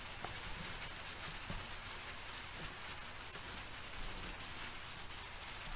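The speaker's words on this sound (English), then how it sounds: "Yeah, it started raining." Rain falls steadily outside, a soft continuous patter of drops on surfaces heard at a low, even level with no talk.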